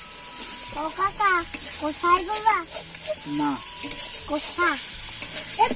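Meat curry frying and being stirred in a pan at a simple outdoor picnic cook-up, a steady sizzle with scraping stirs running throughout under continuous talking.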